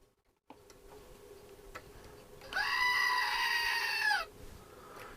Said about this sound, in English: There's the goat, look.